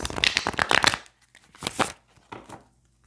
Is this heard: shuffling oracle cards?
yes